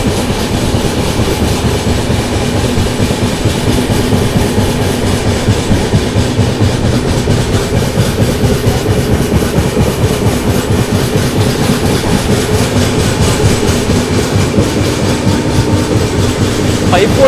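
Steady, loud rumble of the Sanghamitra SF Express 12295 superfast train running on rails at modest speed, with continuous clickety-clack of the wheels heard from inside the coach and a faint voice at moments.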